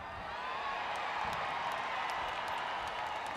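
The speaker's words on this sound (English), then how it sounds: "they were cheering the entire time" Large arena crowd at a Monster Jam truck show in Denver's Ball Arena, cheering in a steady, dense roar that holds throughout with no talk over it.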